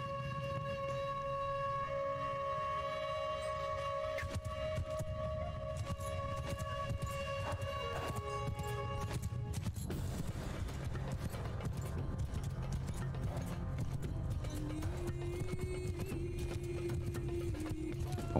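Horses galloping in Mount & Blade II: Bannerlord, a large body of mounted horse archers, as a continuous rumbling drum of hooves running steadily under layered game music for the whole stretch.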